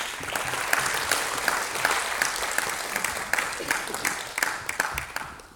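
Dense, steady applause from a keynote conference audience fills the whole stretch, loud and sustained, with individual claps popping out near the end as it starts to thin.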